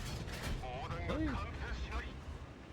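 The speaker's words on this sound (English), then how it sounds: "I bounced the bottom of his tank" In a tank video game, a Type 63 cannon shot bounces off the underside of an enemy tank with a muffled boom and ricochet. Someone talks over it throughout.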